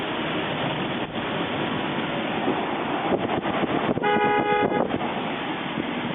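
A loud aftermarket horn on a Sprinter van blares in a short burst amid steady wind and outdoor rumble, with a faint earlier toot beforehand.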